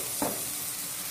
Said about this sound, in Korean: 미역을 다글다글다글다글 볶아주세요